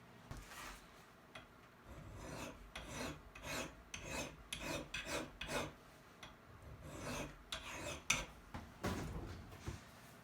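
An axe edge is sharpened with a hand file: steady, close rasping strokes repeat in an uneven rhythm for about ten seconds, with no voices.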